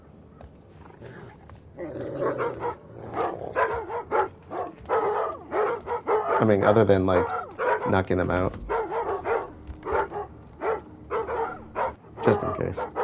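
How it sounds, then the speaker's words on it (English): Dogs barking in the stealth video game Thief, several sharp barks that grow louder midway and sound beneath steady conversation. "Is there a way to sneak around the dogs?"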